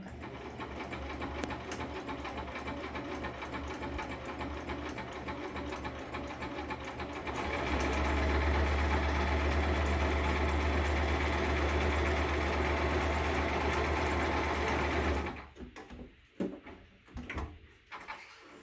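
A Singer Simple sewing machine runs a stitch in a steady mechanical whir, speeding up into a louder, faster hum midway before stopping abruptly, followed by a few faint clicks and handling noises.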